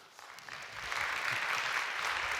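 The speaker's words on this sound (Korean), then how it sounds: "제가 전달할 때 여러분 큰 박수 해주세요" Church congregation applauding a certificate presentation for worship school graduates, a steady wash of clapping that swells after a soft start and holds at moderate loudness.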